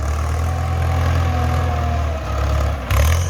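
An old Ford tractor engine runs nearby with a loud, steady idle, dipping briefly and then surging louder toward the end.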